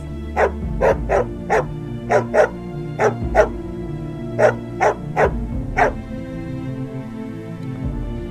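A female dog barks about a dozen times in sharp, evenly spaced yaps, close and clear over a steady low musical backing.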